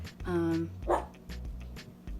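A dog barks once or twice in a home craft workspace, a short sharp outburst near the start, with a voice talking around it.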